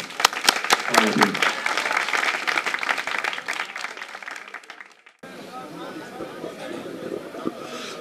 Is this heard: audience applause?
yes